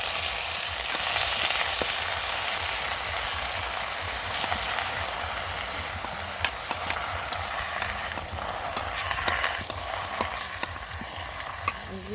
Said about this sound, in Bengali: সাথে সাথে শাকগুলো দিয়ে দিচ্ছি শাকগুলো কিন্তু লাড়া ফাড়া করে দিব যেন পুড়ে না যায়